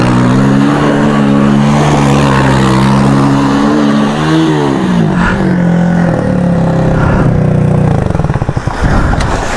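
Motocross bike fitted with a Bashan quad engine, loud and close, droning steadily and then revving up and down in waves, ending with a rough, stuttering rise.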